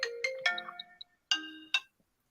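A WhatsApp audio call ringtone plays as a sequence of bright electronic chime notes in short bursts with gaps, clear and close with no voices over it.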